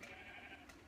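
A sheep in Minecraft bleats once, faintly and briefly, with no talking over it.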